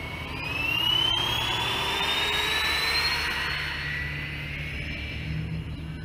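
A Freewing A-10 Warthog RC jet with twin 80mm electric ducted fans lifts off, its loud, steady high-pitched turbine-like whine holding throughout with a slight rising and falling pitch sweep, with no talking.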